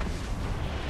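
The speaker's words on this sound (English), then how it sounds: "Nope, it's gunfire." Gunfire in the video game Saints Row IV, a dense, loud, low rumbling burst of shots and booms filling the moment without a break.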